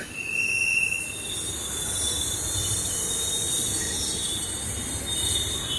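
A Hyderabad Metro train rolls into the station with steady rumble and high, drawn-out wheel squeals, loud and close, with no voices.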